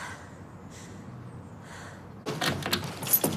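Door held shut by a security chain being rattled, a sudden burst of loud metallic clatter and knocking after a quiet, low stretch.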